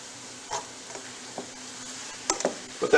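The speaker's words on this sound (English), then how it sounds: "Give it a good stir" Meatballs and potatoes for steak fries sizzle softly in a frying pan while being stirred, a steady low hiss broken by a few light scrapes and clicks of the utensil against the pan.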